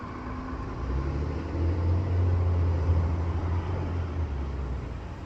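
A bus engine idling nearby gives a low, steady rumble with a deep hum that swells slightly midway, then eases back a little, with no voices.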